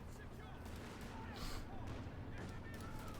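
MG34 machine guns firing in Company of Heroes 2 during an OKW versus USF match, their bursts buried in a dense, continuous wash of battlefield gunfire and explosions.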